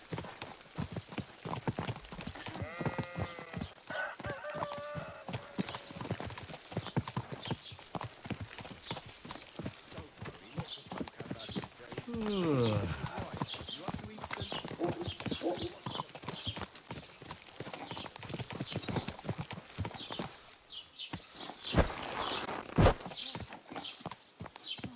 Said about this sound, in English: My God, that looks like a bloody expensive horse.